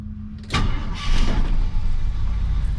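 A 1970 Ford F100 Sport Custom pickup engine cranks and catches after a brief low hum, then roars up and settles into a loud, steady idle close by, with no talk over it.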